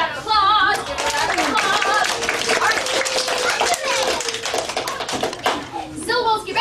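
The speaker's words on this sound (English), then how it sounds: "Give her a round of applause." A classroom round of applause, with fast, dense clapping from a group in the middle and voices talking over the start and end of it.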